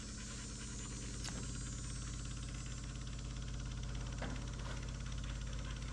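A running engine idles close and steady, with an even low throb and faint knocking and rattling throughout, plus a couple of brief clicks on top.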